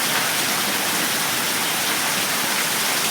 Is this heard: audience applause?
no